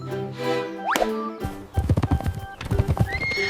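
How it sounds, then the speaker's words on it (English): A horse on a farm whinnies with a rising, shaky neigh, followed by the steady clip-clop of its hooves, close and clear, with no talking. "This is a horse."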